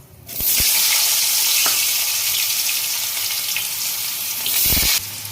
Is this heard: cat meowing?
no